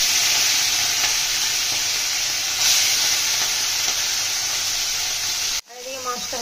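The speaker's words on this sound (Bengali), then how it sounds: "মাছগুলো ভেজে নেবো।" Small Ganga river fish rubbed with salt and turmeric frying in hot oil, a loud, steady, close sizzle that holds without a break, then cuts off abruptly near the end, leaving quieter kitchen sounds.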